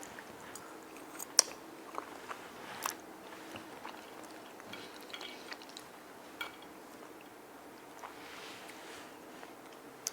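Someone chews a mouthful of mac and cheese close to the mic, making soft, moist squishing and biting sounds in a quiet room with no talking.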